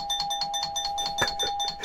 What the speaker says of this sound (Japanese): ずっとピンポン鳴らされてたもんね。